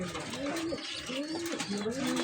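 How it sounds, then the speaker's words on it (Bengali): Large pigeons coo nearby, giving soft, repeated throaty calls in a steady rhythm with some background noise. "বড় বড় সাইজের একদম বিগ সাইজের পায়রা দেখুন"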